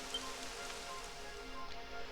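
Rain falls steadily in the video game Dragon Quest 11 on PlayStation 4, a soft, even hiss of drops that runs quietly and continuously throughout with no voices.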